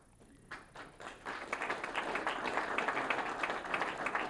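Applause from the audience at the Islip State of the Town Address swells from a few scattered claps into a steady, dense ovation that holds through to the end, heard from across a large hall with no speech.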